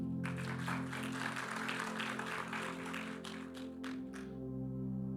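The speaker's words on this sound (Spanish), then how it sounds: "Eso mereció un aplauso." Church audience applauding after a sermon line, a few seconds of dense clapping over a low steady hum that thins out and stops before the end.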